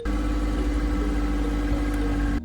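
A Suzuki Every kei van's engine idles steadily through its muffler at about 80 decibels, a close, even low rumble with a faint whir, then abruptly cuts off at the end.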